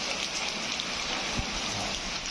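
Heavy rain pours down on the streets of Hyderabad, making a dense, continuous hiss with a faint low thump partway through and no speech.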